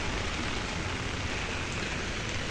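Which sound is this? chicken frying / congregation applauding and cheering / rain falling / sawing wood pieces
rain falling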